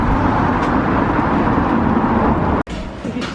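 Steady road and engine noise from inside a car being driven, a constant broadband rumble with a brief dropout near the end before the drone resumes.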